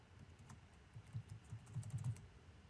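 Quiet clicking of a computer keyboard being typed on during a programming lecture, coming in short, uneven bursts of keystrokes that stay faint and distant throughout.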